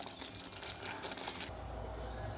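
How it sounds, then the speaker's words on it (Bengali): Hot water poured into dal cooking with fried soya chunks, a steady watery splash and fill that shifts to a fuller, deeper pour partway through, close and continuous with no talk. "গরম জল দেব।"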